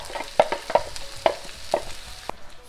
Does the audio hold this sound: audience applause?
no